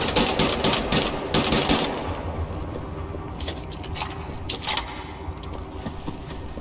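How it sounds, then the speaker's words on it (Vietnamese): Rapid bursts of gunfire in the video game Wolfenstein: The New Order, clustered in the opening two seconds and again midway, with crackly transients over a steady game background and no talk. "Đứa nào bắn thế?"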